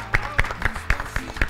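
A short burst of applause for the camera crew at a live TV broadcast, with a handful of evenly spaced, fairly close claps.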